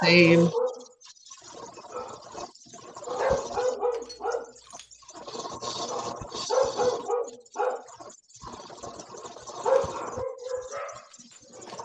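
Someone's dog barking and yipping in the background of an online video call, with intermittent sharp barks mixed under ongoing conversation between several people.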